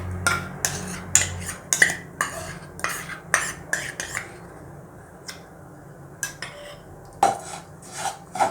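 Moong dal flour is stirred and roasted in ghee in a pan, a spoon scraping and clinking against the metal in steady repeated strokes, close and fairly loud, with no voices.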